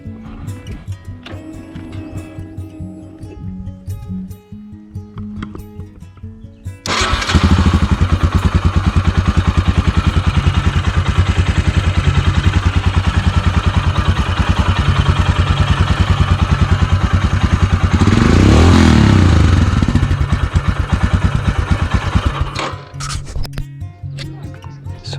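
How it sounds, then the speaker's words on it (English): Royal Enfield Himalayan BS6 motorcycle, 2020 Rock Red edition, heard close up: faint idle clatter first, then the engine fires and settles into a loud, steady thumping exhaust note that swells with a throttle blip before dropping back. "Start the engine."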